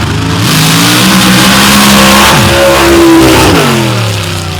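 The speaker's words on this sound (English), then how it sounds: "Suter with an 872 cubic inch rear end Morrison engine." Drag racing car with an 872 cubic inch Morrison engine launching off the starting line at a North Florida outlaw event, a loud, close roar that climbs sharply in pitch as it revs, then swells and holds under heavy load.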